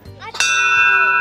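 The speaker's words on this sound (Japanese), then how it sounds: "ベルを鳴らしてください。" A metal bell rung on a mountain hike gives one bright, close strike that rings on with a long, sustained tone, following a short burst of voice.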